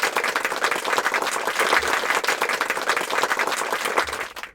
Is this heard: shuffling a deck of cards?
no